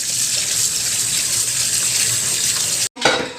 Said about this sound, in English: Some cold water on it so that it becomes cold.